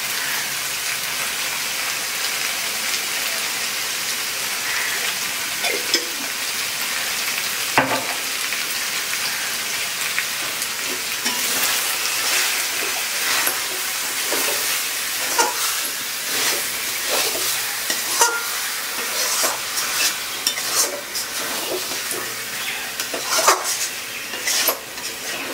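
Country chicken sautéing for chicken kosha, a continuous loud sizzle and hiss from the pan, with scattered clinks and scrapes of a utensil growing more frequent toward the end.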